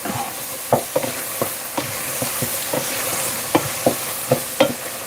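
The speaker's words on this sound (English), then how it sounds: "Get those spices nice and toasted." Spices sizzle and toast in a pan on the stove under a steady, close frying hiss, with a scrape or clack from stirring every half second or so and no voices.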